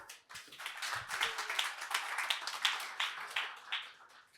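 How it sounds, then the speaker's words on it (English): Scattered clapping from a breakfast event audience, a crowd's light applause of moderate, uneven patter lasting a few seconds with no speech over it. "Let's give a round of applause for Sami Ahvenniemi."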